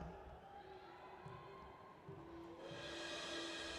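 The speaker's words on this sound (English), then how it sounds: "Hearing some boos from the crowd." A basketball arena crowd boos after a player's missed free throw, a faint, distant, sustained murmur of jeering voices that swells slightly toward the end.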